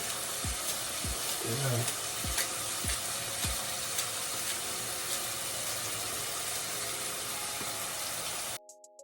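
Spring onion frying in a pan for Jamaican ackee and saltfish, a loud steady sizzle with several dull stirring knocks early on, ending abruptly near the close.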